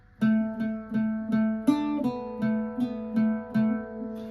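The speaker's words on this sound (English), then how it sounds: "Line 4 sounds like this." An Irish bouzouki picks line 4 of the jig Old Hag You Have Killed Me, a string of clear plucked notes in a steady lilting rhythm, close and alone, each note ringing with bright overtones.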